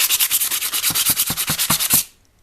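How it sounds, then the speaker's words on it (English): Rapid, steady strokes of sandpaper rubbing against plywood, about a dozen rhythmic scrapes close up, then stopping abruptly. "if I take the sandpaper and sand away at it"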